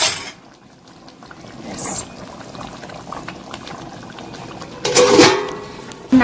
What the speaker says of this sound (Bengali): এখন ফুটুক, একটু ঢাকা দিয়ে রেখে দিই।